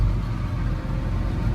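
A swather's engine runs steadily as the machine is pulled forward in an alfalfa field. It makes a close, continuous low rumbling drone with no voices.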